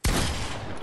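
A single loud Fortnite season 9 weapon shot with a sharp onset and a long rumbling decay, close and alone.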